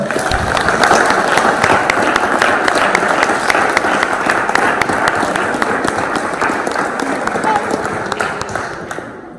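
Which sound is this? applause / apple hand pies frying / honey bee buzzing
applause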